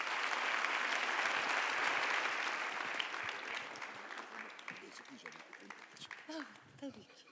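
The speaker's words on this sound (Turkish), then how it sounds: "Murat Bardakçı'yı alkışlarınızla huzurlarınıza alıyorum." A concert audience applauds a journalist, writer and musicologist as he is introduced at a tribute concert, dense loud clapping that gradually thins and fades, with voices emerging near the end.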